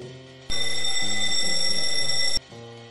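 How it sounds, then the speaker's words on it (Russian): A loud electric school bell rings continuously for about two seconds in a classroom setting, with an abrupt start and stop over a low background hum. "Звонок для учителя."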